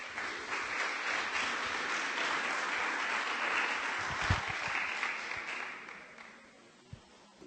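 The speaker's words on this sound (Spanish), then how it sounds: "un fuerte aplauso de bienvenida, por favor" Audience applause welcoming speakers at an arts and culture symposium, a steady wash of many hands clapping at moderate distance that fades out toward the end, with one louder clap near the close.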